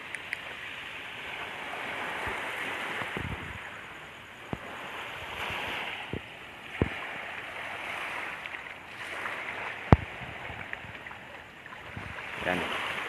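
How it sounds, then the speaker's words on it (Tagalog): A boat waiting at sea after a storm, heard as a steady wash of waves and wind with scattered knocks and creaks, some louder than others, and no clear speech. "Ayan yung bangka na sasakyan natin mga tamsak."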